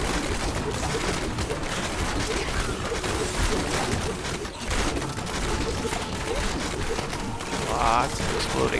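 Enemies explode during Diablo 3 gameplay in a dense, continuous wash of combat noise with rapid crackling blasts and impacts, fairly loud and unbroken.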